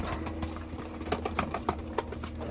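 A tame pet pigeon coos softly in a quiet indoor space, a few low murmuring calls repeating over faint background hum.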